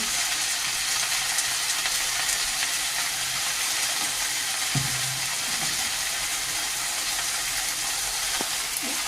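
Leafy greens are stir-fried with salt and turmeric, giving a steady close hiss of frying with a couple of brief spatula knocks against the pan.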